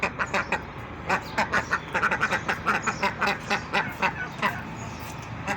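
A group of ducks and ducklings quack in a rapid, rhythmic series, close by and fairly loud, with the calls pulsing steadily over a low background.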